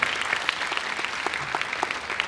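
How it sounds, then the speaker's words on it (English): Audience applause at a Carnatic music recital in Mysuru with ghatam accompaniment, a steady patter of clapping from a modest crowd, moderately distant and continuous throughout. "Let us give them a roaring applause before she amazingly begins her recital."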